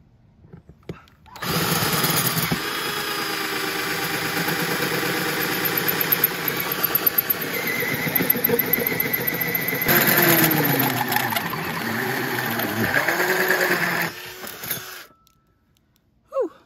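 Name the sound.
power drill drilling a large hole in a van wall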